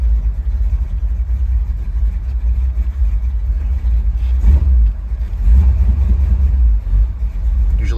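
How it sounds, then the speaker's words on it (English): A 1964 Buick Wildcat convertible's engine, still warming after a cold start, idles with a loud low rumble and rises in two brief revs as gas is given, with no talking. "So we are going to go ahead and just give her a little bit of gas."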